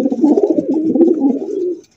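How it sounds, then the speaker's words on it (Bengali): A male racing pigeon coos in a steady, throaty run of low rolling calls, close and fairly loud, continuing for nearly two seconds before stopping. "আর মিলি রেসার কবুতর মাশাআল্লাহ নরের ডাক দেখেন ভাই রে ভাই"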